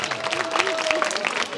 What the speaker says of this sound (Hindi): ऋतिका, ताली हो जाए जोरदार।